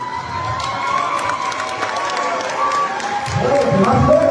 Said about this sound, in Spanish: Muchachos, dense la vuelta y den un fuerte aplauso a sus padres